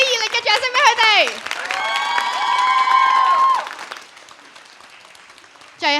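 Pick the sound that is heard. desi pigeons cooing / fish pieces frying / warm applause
warm applause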